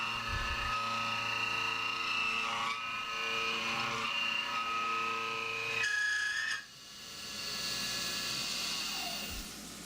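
CNC mill taking a roughing pass on an AR15 gas block, with a steady high-pitched tonal whine from the cutter that holds for several seconds, shifts pitch, then drops as the cut changes.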